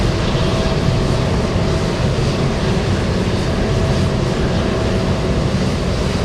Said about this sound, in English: this is the United flight from Chicago